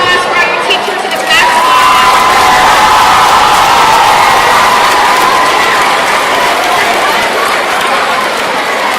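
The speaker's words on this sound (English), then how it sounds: "one round of applause for our teachers and the back" Loud, sustained applause with cheering from a middle school crowd, honoring teachers at the Northwestern Lehigh Middle School 25th anniversary assembly; dense clapping fills the whole stretch with scattered shouts mixed in.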